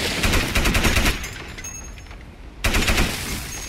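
Automatic gunfire in the video game Crysis aimed at jungle trees, loud rapid bursts that stop for over a second and then resume.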